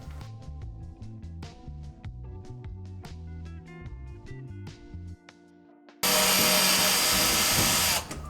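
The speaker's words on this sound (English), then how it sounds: "we're going to unscrew all the screws for the side panel and remove the side panel now" Power drill unscrewing side panel screws on plywood van lining, in short repeated whirring bursts, followed by a louder harsh noise at the end.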